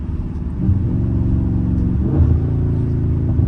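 A loud Dodge Scat Pack rumbles from inside the cabin, its engine rising in pitch as it pulls hard, easing briefly around two seconds, then climbing again in a deep, continuous drone.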